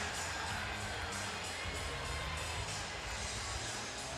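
Baseball stadium crowd at an Astros vs. Mariners opening-day game, applauding and cheering for Carlos Beltran as he leads off an inning: a dense, steady roar of many distant voices and clapping, continuous throughout at moderate level.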